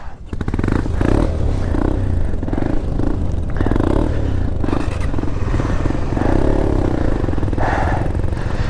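Kawasaki Z900 motorcycle engine rumbling at low revs as it creeps slowly across black ice near Pangong Tso, with scraping and clattering mixed into a steady, loud, close drone.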